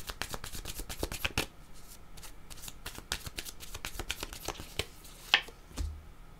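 A deck of cards is shuffled during a tarot-style card reading, giving repeated crisp riffling bursts and soft slaps in a quiet room, with no talking.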